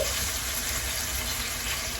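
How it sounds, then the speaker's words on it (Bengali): Hilsa fish fries in a pan of oil with a steady, close crackling sizzle, ending in a brief louder burst of spitting oil. "ফার্স্ট আমি ইলিশ মাছটা ভাজা নিতেছি"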